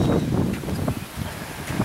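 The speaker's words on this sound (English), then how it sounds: "the worst part about this whole thing is the wind noise" Tropical Storm Alberto wind on Galveston Island, Texas, buffets the microphone in loud, continuous rumbling gusts with rustling, and no one talks.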